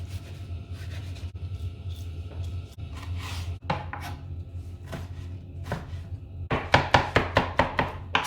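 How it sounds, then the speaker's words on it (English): A knife chops chilies on a cutting board, in a kitchen where shallots, garlic and ginger are also being cut; scattered knocks early on turn into a quick, steady run of crisp, close chops toward the end over a low background hum. "Now you cut and chop your chilies."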